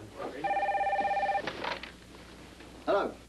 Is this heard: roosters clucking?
no